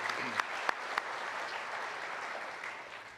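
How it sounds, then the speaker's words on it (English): Audience applause at a city's State of the City address, a steady wash of clapping from a crowd that holds even through the clip with a few sharper claps standing out early on. "I'd like to just give them another round of applause"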